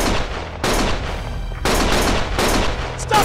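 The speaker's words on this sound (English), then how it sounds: "Stop shooting!" Heavy gunfire from the video game Lost Judgment comes in dense, loud automatic bursts that stop and start several times across the stretch, with no voices over it.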